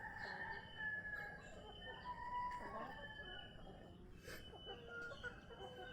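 Roosters crowing at a chicken farm planted with banana and fruit trees, several drawn-out calls rising and falling at moderate distance over a low background hum, with faint clucking between.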